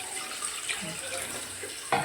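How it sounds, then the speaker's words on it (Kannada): Water pours into a cooking pot holding bamboo shoots with turmeric for a Coorg-style kanile palya, a soft continuous splashing hiss that ends in a brief louder slosh. "ಇಷ್ಟು ನೀರು ಹಾಕ್ಕೊಳ್ಬೇಕು"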